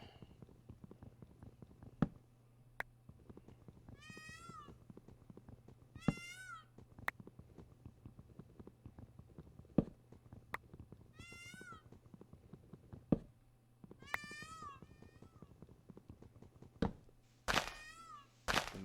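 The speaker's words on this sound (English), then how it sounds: "Majestic sounds of the peafowl." Peafowl in the Minecraft video game give four separate shrill, wavering calls like irate cats, spaced several seconds apart over a low hum, with scattered sharp clicks and thumps and no talk.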